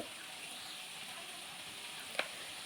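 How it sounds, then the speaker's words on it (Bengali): Green chillies and onions frying together in oil, a faint continuous sizzle with one brief clink of a utensil near the end. "তারপর সবগুলো একসাথে খুব ভালোভাবে বেজে নিতে হবে"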